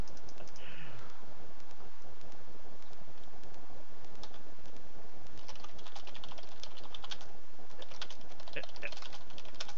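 Rapid clicking keystrokes on a computer keyboard run in an uneven stream, fairly close, with a voice briefly heard in the background.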